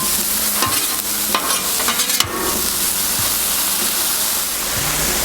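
Steak with steakhouse seasoning sizzling on a hot Blackstone flat-top griddle, a loud, dense continuous hiss with a few scraping clicks near the start.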